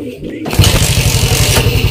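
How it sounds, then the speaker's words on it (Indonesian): A Suzuki Shogun 125 motorcycle engine catches after a brief quiet moment and settles into a loud, rapid, even putter close by. "Nah, ternyata mesin hidup"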